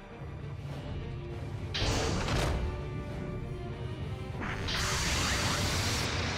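Catapult deck opening on a launch deck in Gundam Battle Operation 2, a steady mechanical roar with hissing bursts of venting gas that surge in two waves, loud and close, with no talk.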